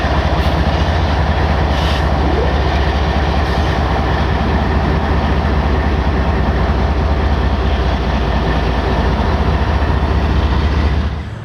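BNSF freight cars roll by loud and close, a continuous heavy rumble with rhythmic clickety-clack of wheels over rail joints, carrying on steadily before easing off at the end, with no voices.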